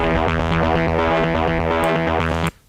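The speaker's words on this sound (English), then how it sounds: "some distortion." A loud, gritty distorted synth tone holds steady for a couple of seconds, then cuts off abruptly into silence.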